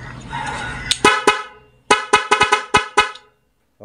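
A double contact car horn wired to a musical horn controller plays a melodic pattern: a long blare, then a run of short rhythmic toots, loud and close, ending in silence.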